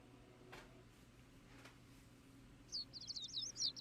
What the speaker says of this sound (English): sound of birds chirping slowly raises me from my dream into consciousness